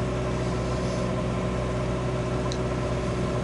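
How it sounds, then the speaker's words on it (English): A sailboat's motor runs at a steady 1800 RPM while single-handed sailing from Thursday Island toward Tual, a constant low drone with an even, unbroken hum and no voices. "I've got the motor running 1800 RPMs"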